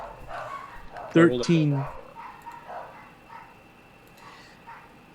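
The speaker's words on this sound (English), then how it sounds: "Hopefully you guys don't hear the dogs barking." Dogs barking indoors, two loud yelping barks up close in quick succession, with a person talking faintly before and after.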